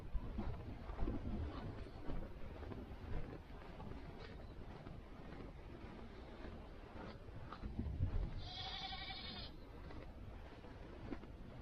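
A goat bleats faintly at a distance over gusty wind buffeting the microphone, one short wavering call rising briefly above a low outdoor rumble.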